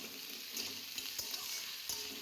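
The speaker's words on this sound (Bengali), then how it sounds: "আলু দেওয়ার পর আমি ভালো করে নেড়ে চেড়ে নিচ্ছি।" Potato strips and spring onions frying in a pan, stirred with a utensil: a steady close sizzle with a few sharper scraping clicks near the middle and end, no talking.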